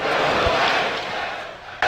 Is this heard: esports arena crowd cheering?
yes